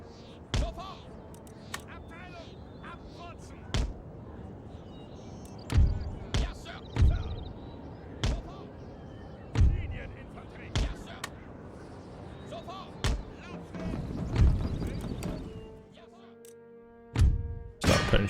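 Cannons fire in a video game battle, a series of scattered dull booms and thuds, some louder and closer than others, with someone talking throughout.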